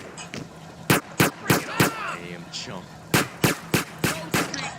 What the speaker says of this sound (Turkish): Kim bana sıkıyor?